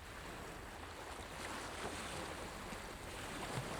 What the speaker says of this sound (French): Les vagues grandissaient